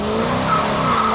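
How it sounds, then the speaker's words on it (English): A car accelerating hard with a loud, steady tire squeal and sustained engine roar, close and continuous, with no talk. "This is so fun when Cindy says, stomp it, or step on it, and Tony just drops the hammer"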